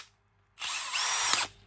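A Milwaukee cordless three-function hammer drill, model 2902, revs up close by in a single loud, high-pitched whirring burst lasting under a second, then stops abruptly, with no talking over it.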